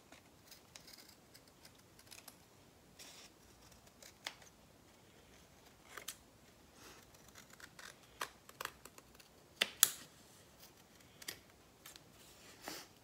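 Scissors snip the edges of dried scented craft moths, a string of faint, irregular clicks and cuts, close and quiet, with no talking.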